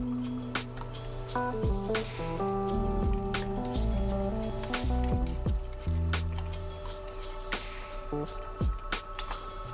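Wet, squishy stirring of thick chili with adobo chilies and adobo sauce in a pot, steady scraping and sloshing throughout with faint clicks and a low background hum.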